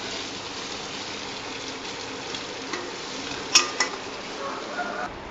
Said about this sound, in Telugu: ఇది జీడిపప్పు వేసి ఇలా ఫ్రై చేస్తాం.